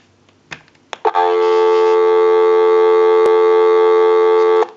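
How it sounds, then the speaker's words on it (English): Steady telephone dial tone from a Western Electric Princess telephone, loud and continuous for about four seconds after a few clicks and handling knocks, then cut off abruptly. "Go ahead and give you some dial tone."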